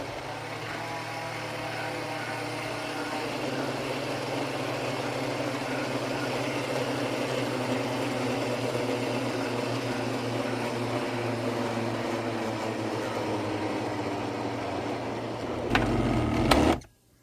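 A blender whips cream into butter with a steady, continuous motor whir that runs unchanged for most of the stretch, then swells briefly louder near the end before cutting off abruptly.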